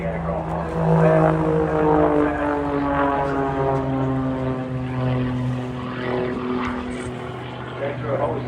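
A propeller aircraft flies aerobatic manoeuvres at a seaside airshow, its engine droning steadily with a rising and falling pitch throughout, loud and continuous, while a commentator talks over it.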